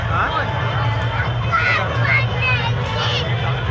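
Continuous babble of a large crowd at the Agri Koli festival in Dombivli, many overlapping voices with occasional higher calls rising above the steady hubbub.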